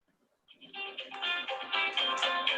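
A phone ringtone starts after a brief silence and keeps sounding steadily at close range, a bright, layered tone with no voices over it.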